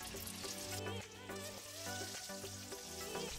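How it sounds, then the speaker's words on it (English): Chicken deep frying in medium-hot oil gives a steady, dense sizzle and bubbling, close and continuous throughout. "First, we will deep fry the chicken in medium hot oil"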